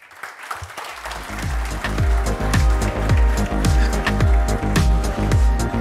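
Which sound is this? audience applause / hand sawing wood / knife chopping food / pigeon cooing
audience applause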